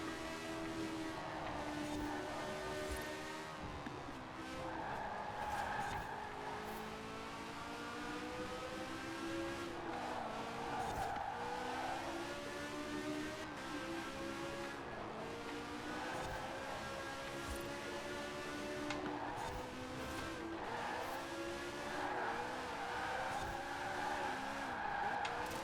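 A tiny Peel P50 in a racing video game skids with a long, steady tire squeal over its buzzing engine, the pitch wavering in repeated sweeps as it slides and wrecks.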